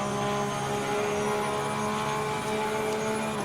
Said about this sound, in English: that lovely high-pitched sound from the Porsche engine